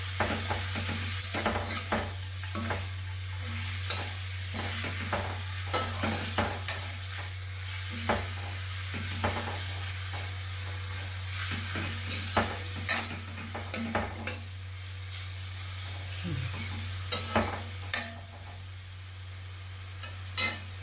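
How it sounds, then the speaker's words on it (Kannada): Raw mango pieces sizzling and being stirred in hot oil for Karnataka-style mango rice, a steady close fry hiss with repeated scrapes and clinks of a spoon against the pan throughout, no talk. "ಇದೊಂದು ಸ್ವಲ್ಪ ಹುರ್ಕೋಣ ಎಣ್ಣೆ ಒಳಗೆ ಸ್ವಲ್ಪ ಫ್ರೈ ಆದರೆ ಚೆನ್ನಾಗಿರುತ್ತೆ"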